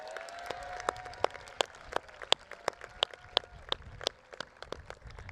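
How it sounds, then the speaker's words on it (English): Scattered clapping for a coach at a high school commencement, individual sharp claps spaced irregularly and fairly faint, with a soft sustained tone lingering underneath at the start. "a big round of applause for Coach Skirmahorn"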